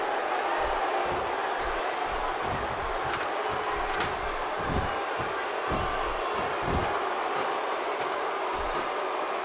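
Arena crowd in the WWE 2K16 wrestling video game, a steady dense roar of cheering fans throughout, with low thumps underneath and no commentary over it.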